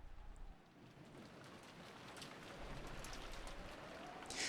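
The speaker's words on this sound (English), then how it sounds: "as the sound of wind and rain slowly filled the room once again, Erica slowly opened her eyes" Wind and rain from the Umineko visual novel: a steady, moderately loud hiss of rainfall and gusting wind that swells slightly toward the end, with no voices.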